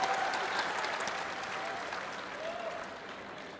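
Audience applause at a talk with an esports pro player, a sustained wash of clapping from a crowd that fades gradually over a few seconds.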